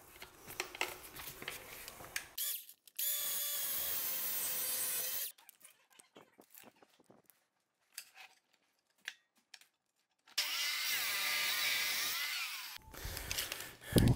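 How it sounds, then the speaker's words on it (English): An angle grinder fitted with a polishing pad runs close and loud in two sustained bursts of whirring abrasion, with scraping, handling noises and quiet gaps between, during a shower knee wall build. "I'm gonna just use my grinder, this guy here. And then use one of my polishing pads."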